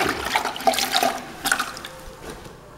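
Damp sponge sliding over a freshly poured wet concrete floor during levelling, a soft irregular wet swishing and squelching, close and moderately quiet, fading out at the end, no talking.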